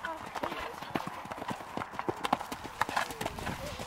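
A horse clip-clops steadily in a riding lesson, its rhythmic hoofbeats moving between gallop and trot in an arena, with an occasional whinny and an instructor's voice talking over it.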